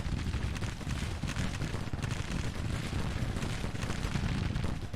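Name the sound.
rifle fire in Grand Tactician Civil War video game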